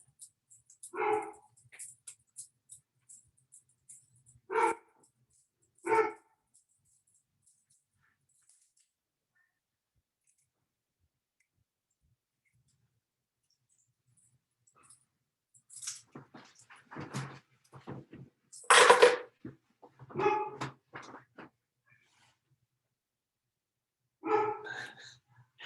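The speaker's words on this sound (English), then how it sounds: "this time I think he's barking at me, because that's an unfamiliar sound" A dog barks in short, sharp bursts, a few single barks early, then a denser cluster of barks later, each separated by long stretches of near silence, fairly close and moderately loud.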